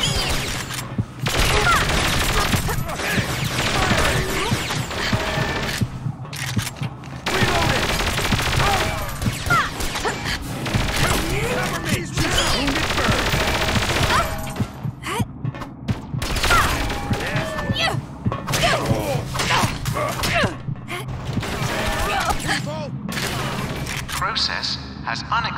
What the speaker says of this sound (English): She's firing at us!